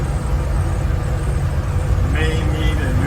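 A 1974 Ford Bronco cruises at about 50 mph, its cabin filled with a loud, steady low engine and road rumble and wind noise, with someone talking over it.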